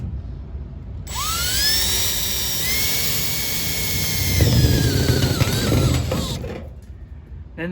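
A step drill bit whines into metal ductwork up close, a high steady drilling tone that shifts pitch as it cuts through successive steps, rising in grind before stopping abruptly.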